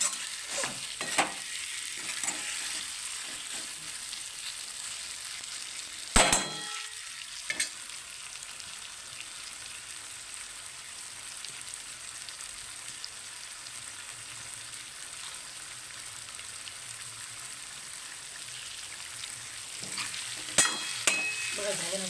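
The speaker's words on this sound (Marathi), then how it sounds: "त्याला पण परतून घ्यायचं आहे. मिक्स करायचं मसाल्यामध्ये." Potatoes and peas sauté in spiced oil with a continuous soft sizzle, broken by a few sharp clatters of stirring in the pan.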